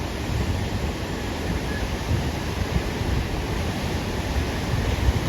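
Water rushes out of Mettur dam into the Kaveri river as a loud, unbroken roar that stays steady throughout, with no voices.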